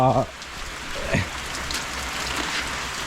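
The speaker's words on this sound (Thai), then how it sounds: "ทำไงแล้วฝนตกเนี่ย" Rain falls outdoors in a steady, soft hiss after a short burst of voice at the start.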